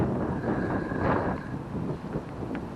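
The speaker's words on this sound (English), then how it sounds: "Oh, that wind." Wind gusting across a river bank while fishing for perch and pike, a dull rumbling roar buffeting the microphone steadily for a few seconds.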